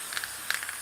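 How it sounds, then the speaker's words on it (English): Spray paint hisses from a can around a lid stencil on canvas in short, light bursts, a soft, airy sound with a couple of slightly stronger puffs, close and alone. "So just spray around this lid stencil and around the background."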